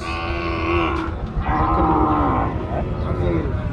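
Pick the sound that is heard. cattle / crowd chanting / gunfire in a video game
cattle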